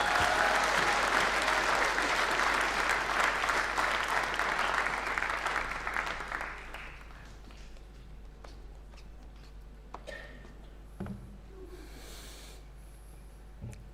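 An audience at a Pasifika celebration gives a loud round of applause for the event's sponsors, sustained clapping that fades after about six seconds into a quieter room with faint murmurs and a few soft knocks.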